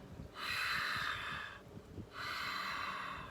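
Ujjayi pranayama breathing, a throat-constricted exhale like fogging a mirror, heard as two long, steady, airy hisses close up, separated by a brief pause.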